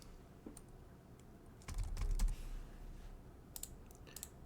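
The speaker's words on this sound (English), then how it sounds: "all I need to do is type it in" Quiet keystrokes on a computer keyboard, a few scattered taps and then a brief burst of faster typing, heard close and alone.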